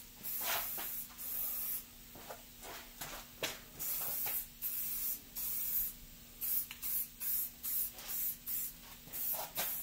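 Spray paint hisses onto truck wheels for an S10 Blazer in repeated short bursts, each spray a sharp airy rush separated by brief pauses, fairly close and steady in rhythm.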